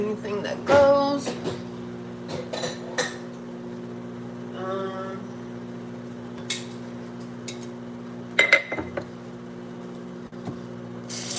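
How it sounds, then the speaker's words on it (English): Dishes and cutlery clink and clatter into a home dishwasher in scattered bursts, a few sharp knocks among quieter rattling, over a steady appliance hum. "I'm gonna put some dishes in the dishwasher."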